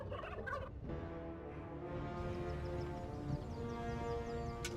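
Turkey-like gobbling from a flock of chickens on a farm in the video game Dungeons 3, a steady dense cluck and gobble chorus with layered game ambience running throughout, no talking.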